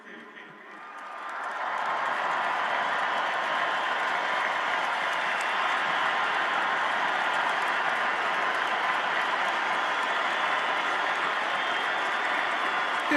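A Seattle Seahawks crowd, the 12s, roars in sustained cheering after a Super Bowl win over the New England Patriots, a dense, steady wall of noise swelling up within the first two seconds and holding loud and unbroken.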